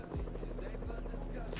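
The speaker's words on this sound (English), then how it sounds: "Ooh, helicopter coming in." A video game helicopter's rotor thumps in a steady rhythm over a low engine drone, sounding fairly close and continuous throughout.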